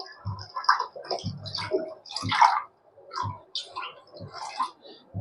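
Water is poured into a cooking pot set up for steaming, giving close, uneven splashes and trickles that come in short bursts with brief pauses.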